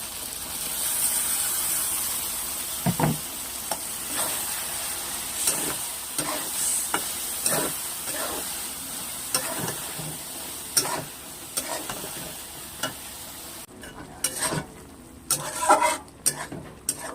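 Taro stolons cooking in a pan with mustard paste, stirred steadily: a continuous bright sizzle carries sharp, repeated scrapes of the spoon against the pan, louder clacks clustering near the end.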